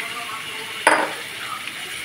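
Marinated chicken, seasoned only with lemon juice, dropped into a hot pan of spices, with a sudden loud sizzle burst that fades into a steady quieter frying hiss.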